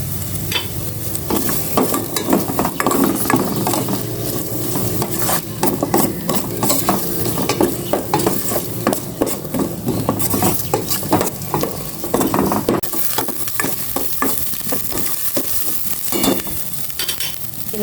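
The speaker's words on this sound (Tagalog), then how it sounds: "Igisa ko na rin tong sibuyas." Onions sautéing in a pan, with a steady sizzle and frequent scraping, clattering stirs throughout, fairly close and loud, with no voices.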